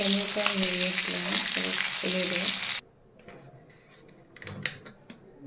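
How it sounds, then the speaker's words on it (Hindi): Prawns frying in oil with ginger garlic paste give a loud, busy sizzle with stirring scrapes for nearly three seconds, then it cuts abruptly to a quiet room with faint clatter. "अदा रसुण पेस्ट चिंगुड़ी भाजी"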